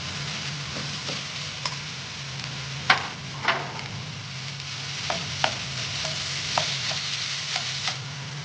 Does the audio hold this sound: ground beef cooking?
yes